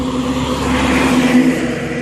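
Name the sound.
gas truck driving past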